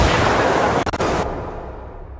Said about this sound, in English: Uh-oh, mortar, get out of that.